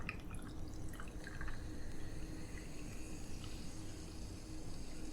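Liquid pours from a bottle to top off an Albatross rum cocktail made with Kraken rum, a steady close trickle and splash that runs the whole time with no voices.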